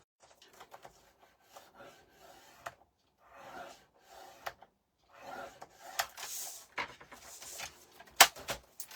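A photo mat craft piece is scored along its 8.5 inch length with soft scraping strokes in short bursts between pauses, fairly close and quiet, ending in a sharper click.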